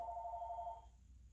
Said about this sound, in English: Somebody calling. Nobody ever called that phone. I still got a landline.